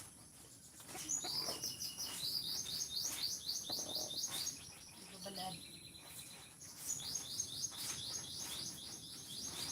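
Hen and chicks: small chicks chirp in quick repeated high trills, moderately close, over a faint outdoor background with a person speaking briefly.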